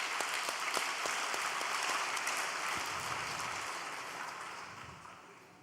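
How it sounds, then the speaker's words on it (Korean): A church congregation gathered for an all-night worship service claps in thanks, a dense, steady round of applause that slowly fades, with no speech over it. "감사의 박수 한번 올려드리겠습니다"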